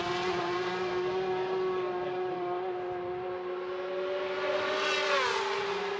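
Racing motorcycles on the Macau Grand Prix street circuit during warm-up, one engine screaming at high revs in a sustained whine that drops briefly and then climbs again, moderately near.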